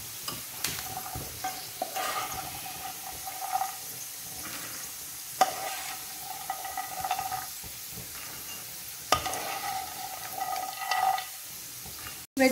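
Vegetables for poha stirred and sizzling as they fry in a pan, a steady close frying hiss broken by a few sharp scrapes of the spoon against the pan.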